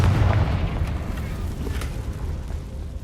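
A Confringo fire spell explodes in the video game Hogwarts Legacy, a heavy booming blast with a deep rumble up front that fades into a noisy, crackling tail over about three seconds.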